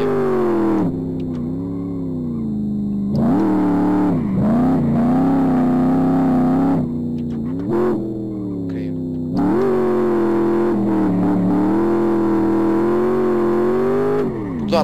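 A BMW M5 E39 drifting in Live for Speed, steered with a Logitech G29 wheel: a steady, loud engine drone rises and falls as the revs surge and dip through a slide, continuous for the whole stretch with no talk over it.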